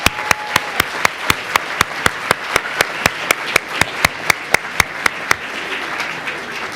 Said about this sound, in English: A round of applause for Tamsin, please